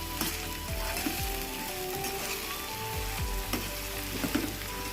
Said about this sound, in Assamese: পিঁয়াজখিনিও আমি অলপ সময়ৰ কাৰণে ভাজি ল'ম